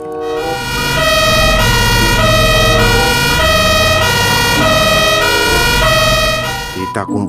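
Toy ambulance siren blaring loud and close, a rapid repeating two-tone electronic wail held for several seconds before cutting off, with no other sounds.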